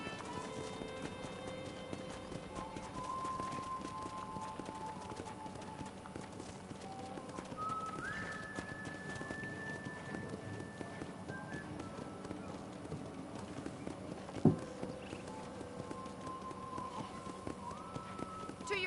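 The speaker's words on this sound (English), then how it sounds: "let's see if you can still ride a horse" Horse hooves clip-clop at a steady riding gait in the Western ranch game Red Dead Redemption, running continuously under background music with a single sharp knock midway.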